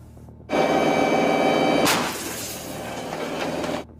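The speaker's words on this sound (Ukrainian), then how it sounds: "заряджають машину і лунає постріл" A self-propelled howitzer fires: a sudden loud mechanical roar with a ringing metallic tone, then a sharp blast that rumbles on and fades before cutting off.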